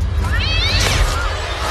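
A cat meows in a drawn-out, rising and falling call, loud and close, alone without talk.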